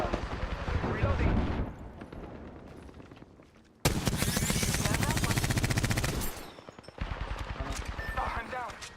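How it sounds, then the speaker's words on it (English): Rapid automatic gunfire from a firefight in Apex Legends, heard as loud sustained bursts with short breaks between them, sometimes under a player's voice. "Hey, they're shooting at me."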